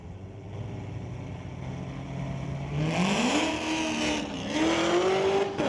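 A 2016 Corvette and a 2010 Challenger drag racing down a strip, the engines idling steadily and then revving hard with rising pitch as the cars launch and pull away, loud and continuous.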